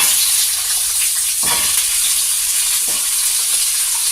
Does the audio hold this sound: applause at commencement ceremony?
no